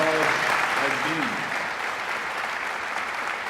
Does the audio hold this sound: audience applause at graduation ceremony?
yes